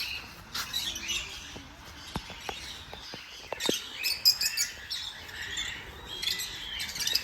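Yellow and green lovebirds at the SV Zoo in Tirupati chirp and squawk in scattered, fairly faint bursts against a background murmur.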